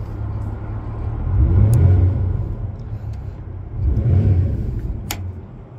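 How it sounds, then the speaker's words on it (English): A 2002/03 Yamaha 225hp outboard motor, just repaired, revving twice with a rising and falling rumbling whir over a steady idle, close by and with no talking. "So I'll rev it up."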